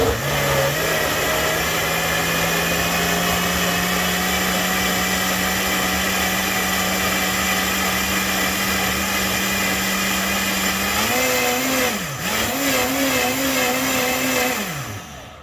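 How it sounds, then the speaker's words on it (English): A powerful kitchen blender runs loud and steady for about eleven seconds, a constant motor whine, then its pitch dips and swoops twice as the load shifts near the end. "Now this is a really powerful blender, so it's gonna be probably pretty loud."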